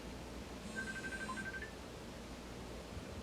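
A phone rings in a quiet room as a short electronic tone that lasts about a second, then fades into soft background hiss.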